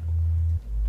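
Deep synthesized sub bass holds one sustained low note for over half a second, then a brief dip before a second low tone swells in, loud and alone with no talking.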